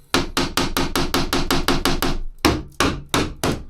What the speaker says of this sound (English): You need to get one hammer and then boom.